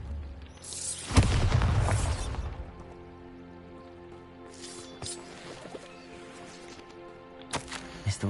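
A Bombarda spell in a wizarding video game sets off a loud, booming explosion with a crackling, splashing burst that fades into a rumbling tail, followed by smaller magical bursts and pops.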